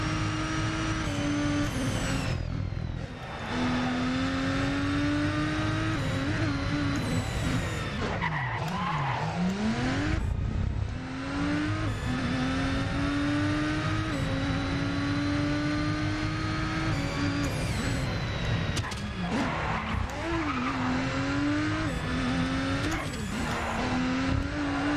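Racing cars in Need for Speed The Run roar continuously with rising and falling engine pitch, gear shifts and tire skids throughout, loud and close with no pauses.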